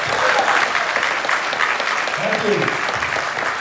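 An audience applauds steadily at a town hall event at Waldorf University in Forest City, Iowa. The clapping is dense and sustained, and a voice speaks briefly over it.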